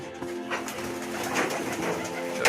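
Pigeons at a pigeon farm, including fantail and lakka breeds, coo in soft repeated throaty phrases close by, several birds overlapping over a faint background hiss.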